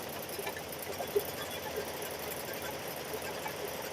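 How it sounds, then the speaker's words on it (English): A sewing machine runs steadily while quilting Christmas quilts for grandchildren, giving a continuous, fairly quiet mechanical whir with small ticks and no pauses. "I'm quilting these Christmas quilts, Miss Amy"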